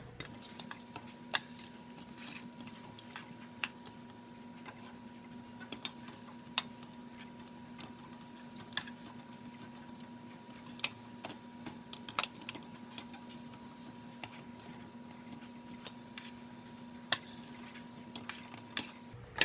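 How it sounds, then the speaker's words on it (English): Coffee beans being stirred into melting wax in a double boiler, giving faint, scattered light scraping and clicking ticks over a steady low hum, with no voices. "Holding on to my double boiler as I mix these into the wax"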